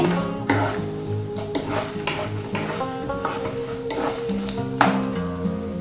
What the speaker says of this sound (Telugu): అట్లాగే ఎండుమిర్చి ఇవన్నీ వేసుకుని చక్కగా వేయించుకోవాలి.